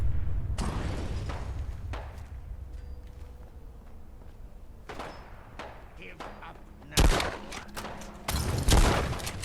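A car blows up in the video game Fallout London. Sharp, heavy explosive blasts burst out near the end after a quieter stretch of game ambience, with a few fainter thuds earlier on.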